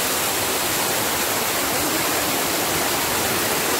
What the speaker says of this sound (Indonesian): Ini air terjun rute perjalanan turun.